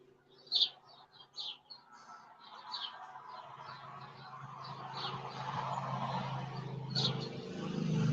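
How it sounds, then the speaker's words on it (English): Birds sing outdoors with a series of short, high chirps and tweets, moderately distant, while a low steady rumble of traffic grows underneath toward the end. "Birds are singing."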